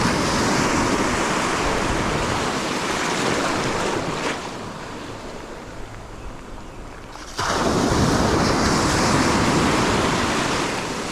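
Heavy rain pouring down during an evening of bass fishing, a dense steady hiss that drops away briefly in the middle before returning at full strength, with no talking.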